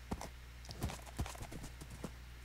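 Horse hooves clip-clop at a steady trotting rhythm in Minecraft, faint and a little distant, with light taps spaced evenly across a couple of seconds.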